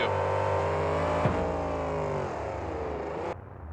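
Monster trucks race around a turn at a Minneapolis KORR event in 2003, with loud, sustained engine roar and revving that shifts in pitch as the vehicles pass, cutting off sharply near the end.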